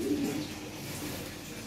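Farm-kept pigeons cooing close by, a low soft burst of coos at the start and quieter continuing murmurs against steady background noise.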